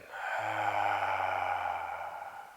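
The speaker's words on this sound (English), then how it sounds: "This time a bit of sound on the exhale." One long voiced exhale during a breathing and movement practice: a soft, steady hum-like sigh of breath that swells and fades over about two seconds, near and alone.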